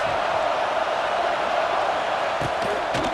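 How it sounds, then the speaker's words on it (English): A dense, steady roar of stadium crowd noise at a college football game in EA Sports College Football 26, loud and continuous, with a few faint sharp knocks near the end. "This crowd trying to make life miserable for this offense."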